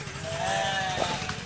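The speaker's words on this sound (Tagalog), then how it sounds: "Tupa ba yan?" Sheep bleating on a farm during a mango harvest, one wavering bleat at close range over steady background noise.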